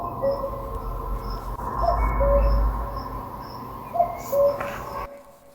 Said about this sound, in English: So the answer for today was, of course, a cuckoo.